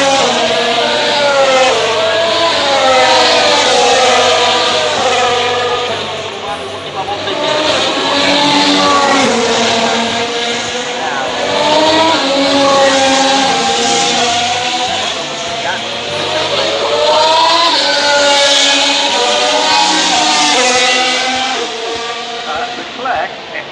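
Formula 1 cars race past at Monza during the 2019 Italian Grand Prix qualifying weekend. The loud, continuous high-pitched engine roar rises and falls in repeated sweeps, with a crowd and a nearby voice mixed in.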